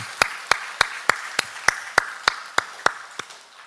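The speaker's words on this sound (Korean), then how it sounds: "우리를 구원하신 부활하신 예수님께 감사와 찬양의 박수로 영광 올려드리겠습니다." Church congregation at an Easter Sunday service clapping in praise, about a dozen crisp claps struck together in an even, steady rhythm, fading slightly at the end, with no talking.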